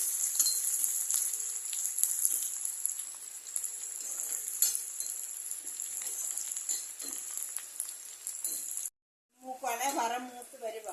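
Onions and chillies fry in hot oil with mustard seeds, a bright steady crackling sizzle with scattered pops and spits, briefly cutting out before someone speaks over the pan.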